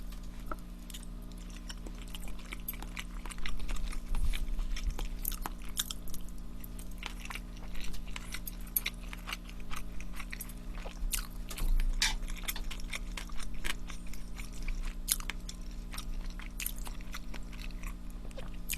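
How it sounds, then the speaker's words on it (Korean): Someone chews a piece of potato from a braised spicy chicken stew during a mukbang meal, producing soft, steady, moist chewing and small crunches over a constant low background hum, with no talking. "하나 더 먹을게요. 감자."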